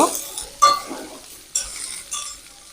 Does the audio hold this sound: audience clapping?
no